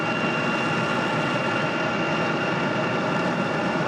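An American Airlines jet at Raleigh-Durham International Airport gives off a steady, broad roar that holds at an even level throughout, with no voices.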